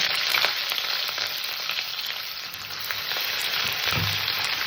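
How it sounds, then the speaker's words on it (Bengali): Chopped onion and cumin sizzle loudly in hot oil with dried red chillies, a dense, continuous frying crackle close by, with occasional stirring scrapes. "পেঁয়াজটাকে একটু হালকা লাল করে ভেজে নেব"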